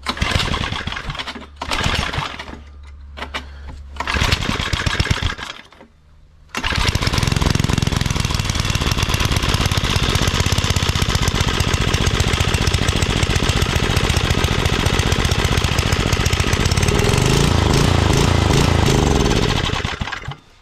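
A rototiller engine on an amateur's vegetable plot, reportedly half on fire and with a throttle fault being adjusted, sputters through a few short bursts before catching and running loudly and steadily, its pitch rising and falling as the throttle changes.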